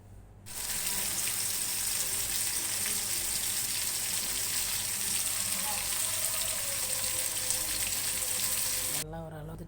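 Whole quail deep-frying in a pan of oil, giving a loud steady crackling sizzle that starts abruptly and holds for about nine seconds before cutting off, close up, with a brief voice at the very end.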